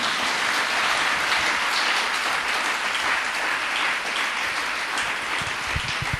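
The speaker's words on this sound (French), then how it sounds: "On acclame le Saint-Esprit." A church congregation applauding, a dense, sustained roar of many hands clapping at steady volume from start to finish, with no voices standing out.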